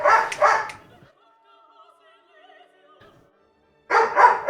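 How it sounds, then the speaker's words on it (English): Pet dogs bark indoors in two loud clusters of quick barks at the start and end, with a near-silent gap between them. "There's my dogs trying to get in the video again."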